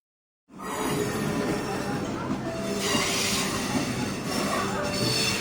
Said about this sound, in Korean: 열차의 브레이크 소리가 날카롭게 공기를 가릅니다